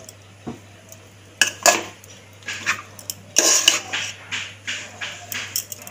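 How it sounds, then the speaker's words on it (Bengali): A spoon clinks and scrapes against a pot while sugar is stirred into Gobindobhog rice pulao, a string of sharp metallic taps and scrapes in uneven bursts, close and fairly clear, with no talking. "চিনি দিয়ে একটুখানি নাড়িয়ে নেব"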